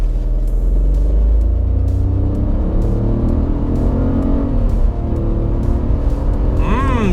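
A 2017 Honda Civic hatchback with a CVT accelerates at full throttle from a brake-held launch, its engine droning loudly and steadily from inside the cabin with a rising whine near the end.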